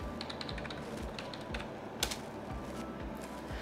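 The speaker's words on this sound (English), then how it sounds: "What I'm going to do is just type in our Flickr" Rapid, steady keystrokes on a computer keyboard as a web address is typed in a meeting room, close and fairly quiet, with no talk.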